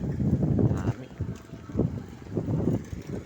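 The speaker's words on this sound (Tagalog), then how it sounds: "Ito yung lakas ng hangin pa rin, no?" Strong wind buffets the microphone outdoors, rumbling in heavy gusts that rise and fall over a few seconds, loud and close.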